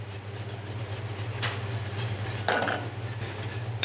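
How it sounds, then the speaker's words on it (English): Butter is whisked into a warm sauce in a pan, giving soft metallic scraping and stirring against a steady kitchen hum with a low tonal drone. A brief louder clink comes near the end. "the important part of making a butter sauce is to continue whisking the butter throughout"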